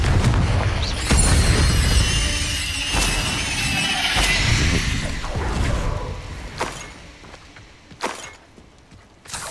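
Confringo fire spells explode in the video game Hogwarts Legacy, several booming blasts and bursts in quick succession with crackling debris, loud at first and tapering into scattered sharper pops.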